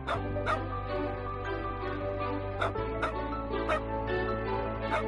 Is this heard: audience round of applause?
no